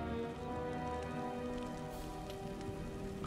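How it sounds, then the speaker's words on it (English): Steady, even rain patters across a battlefield in Empire: Total War, a soft continuous hiss with no voices over it. "Of course, now it's raining"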